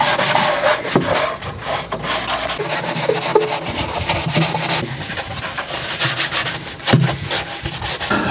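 A razor blade scrapes steadily across the glass of a fish tank, removing ground-in marks and dried plant residue, with a continuous close, gritty rasping of rhythmic strokes throughout.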